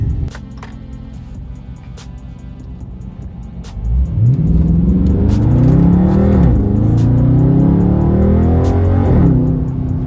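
A car driving at night idles with a low rumble, then its engine revs hard and accelerates loudly through rising gear pulls, heard close from inside with faint clicks and ticks.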